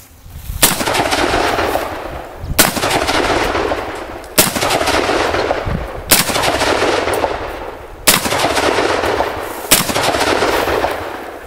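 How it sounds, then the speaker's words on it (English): An M1 Garand rifle fired at an outdoor range in rapid order: six loud, sharp shots spaced about two seconds apart, each followed by a long rolling echo that fills the gap before the next. "I'm gonna take these last shots in rapid order so I can see if we get a malfunction."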